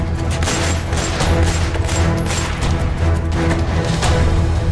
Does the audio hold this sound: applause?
no